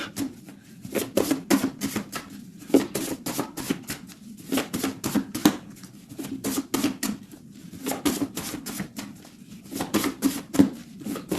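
A tarot deck is cut and handled, giving bursts of crisp, rapid papery clicks and riffles that recur in clusters at close range, with no talk.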